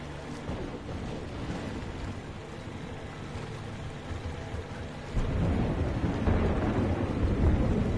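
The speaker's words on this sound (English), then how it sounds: "Awesome storm sound effect." A thunderstorm in the video game Metro Exodus: steady heavy rain with deep rolling thunder that swells louder partway through, no voices.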